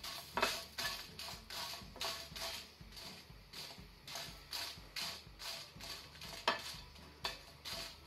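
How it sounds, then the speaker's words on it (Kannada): Black pepper and spices dry-roasting in a hot pan over a medium-to-low flame, with a steady rhythm of scraping strokes and light rattling of whole spices, fairly quiet and close. "ಪ್ಯಾನ್ ಬಿಸಿ ಆದ ನಂತರ ಮೊದಲಿಗೆ ನಾವು ಮಸಾಲೆ ಡ್ರೈ ರೋಸ್ಟ್ ಮಾಡಿಕೊಳ್ಳುವ."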